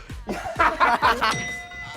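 A bell is struck several times in a quick, uneven series at a forest scout camp, each strike ringing briefly, with some laughter mixed in.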